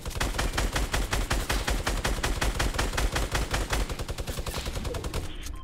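In a Fortnite duos match, rapid automatic gunfire sounds as a dense, even stream of sharp shots for several seconds, loud and unbroken at first and then trailing off near the end, with no talking over it.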